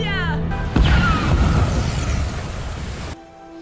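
A bomb blows up in the 2021 film Thunder Force after being carried into the Chicago River: a sudden loud boom with a rumbling, crashing roar that lingers for a few seconds before cutting to quieter sound.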